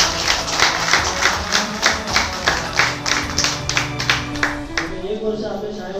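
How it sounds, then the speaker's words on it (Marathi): Audience at a school Independence Day function clapping in a steady, sustained round of applause, fairly near, with a low voice or murmur running underneath that fades toward the end. "टाळ्या वाजवायच्या"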